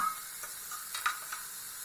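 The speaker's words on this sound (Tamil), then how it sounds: "இப்போ நம்ம கேரட்டு, பீன்ஸு, முட்டைக்கோசு எல்லாத்தையும் போட்டுடலாங்க." Carrot, beans and cabbage, added after tomato, crackle and sizzle in a hot pan while being stirred for an oat upma: a soft, steady hiss with a few small pops, fairly quiet and without voices.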